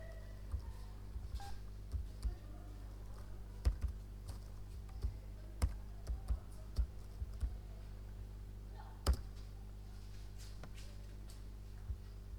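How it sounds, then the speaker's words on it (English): Keys clatter on a computer keyboard as a command is typed into the Windows 7 command prompt, scattered quiet clicks and a few sharper taps over a low steady hum. "then type the command"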